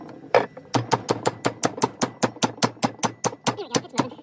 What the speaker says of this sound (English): I'm just gonna try the handle with my hammer.